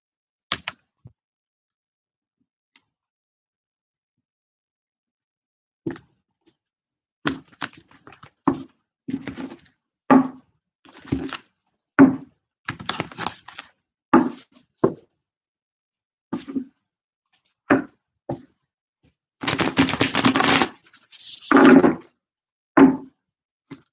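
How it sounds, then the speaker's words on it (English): Tarot cards are shuffled in a scattered series of short, dry taps and riffles, close and fairly loud, with a denser riffle near the end and silence between bursts. "Just a couple more shuffles here."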